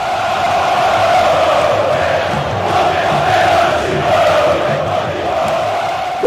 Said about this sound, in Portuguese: ganhou alcance nos 4 cantos do planeta o canto Poderoso Timão